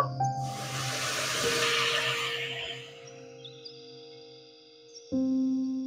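A splash of water poured onto ground coriander and cumin in a hot pan bursts into a loud steaming hiss that slowly fades over a few seconds, followed by quieter sizzling and a clunk near the end.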